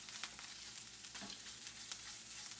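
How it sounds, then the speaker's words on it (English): Beef chorizo frying in a pan, a soft, steady sizzle with light crackling pops throughout, fairly quiet and without talk. "So the beef chorizo is cooking."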